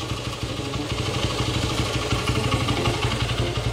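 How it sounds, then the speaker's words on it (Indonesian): Honda GL Max motorcycle from 2005, original condition, its engine idling smoothly with a steady, close mechanical clatter that rises slightly toward the end, no voices. "Ini kondisi suara mesin masih halus."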